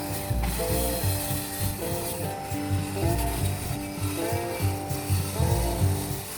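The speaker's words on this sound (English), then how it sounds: "So I started by cutting the plywood to size." Half-inch sanded plywood sheet being cut to size with a power saw, a steady loud whine with repeated grinding, ratcheting passes and rhythmic surges through the blade, no talking.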